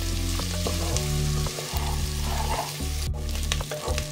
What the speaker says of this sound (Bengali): তো এই রসুনগুলো আমি এখনই দিয়ে দিচ্ছি। পেঁয়াজগুলো একটু ভাজা হবে